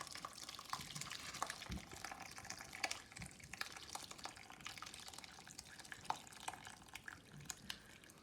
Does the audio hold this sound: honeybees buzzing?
no